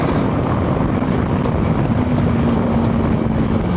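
A TVS Apache RTX 300 motorcycle engine pulls hard under acceleration, a loud, dense, continuous drone with wind rush, rising slightly in pitch over a few seconds, no voices.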